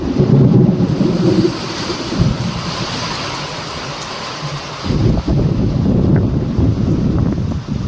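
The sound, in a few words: thunder and wind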